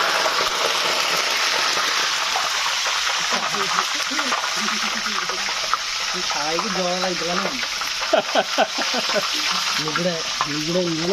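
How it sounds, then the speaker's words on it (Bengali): Hot oil bubbling in a pot for biryani, a loud, close, continuous sizzling roar with people talking over it. "দেখুন তেল কেমন ফুটছে"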